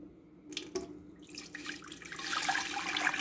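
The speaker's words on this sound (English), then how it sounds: "I'm going to be adding 8 cups of very hot water." Very hot water pours steadily into a pot, starting with a few splashes and building to a fuller, louder rushing stream.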